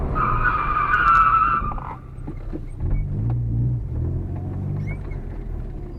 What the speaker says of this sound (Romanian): să treceți treptat la o viteză mai mare și la o frânare mai bruscă